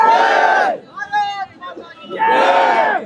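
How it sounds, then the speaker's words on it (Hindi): A crowd of students protesting at Jantar Mantar in Delhi roars in two loud bursts of massed shouting, with a shorter stretch of chanting voices between them. "सारी जगह यहाँ पर प्रोटेस्ट चल रहा है। छात्रों की बहुत भारी भीड़ यहाँ पर"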